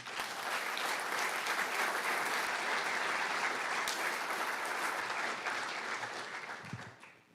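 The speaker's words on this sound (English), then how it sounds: "Tanner deserves a round of applause" Sustained audience applause for Tanner at an introductory press conference for Tommy McClelland; dense, even clapping from a crowd that holds steady for several seconds before tapering off at the end.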